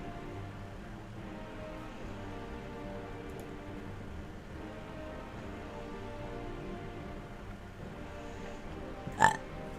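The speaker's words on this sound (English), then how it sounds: "Oh, excuse me, I burped." A single short burp breaks out near the end, a brief loud belch from a person sitting at a computer while playing an online game, over faint steady room noise.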